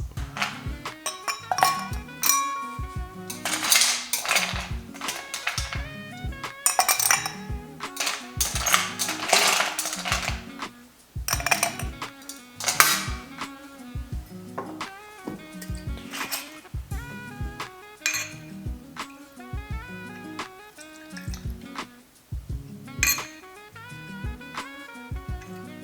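Ice cubes clinking and tapping against a glass while a whisky highball is built with softened ice and a whisky-rinsed glass, a dense run of bright, close, rhythmic chimes and clicks with no talking.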